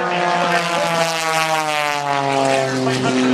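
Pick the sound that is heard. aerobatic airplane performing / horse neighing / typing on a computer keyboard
aerobatic airplane performing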